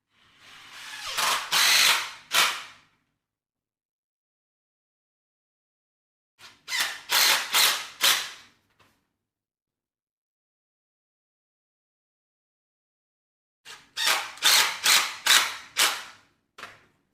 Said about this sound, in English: Now screw in your brackets.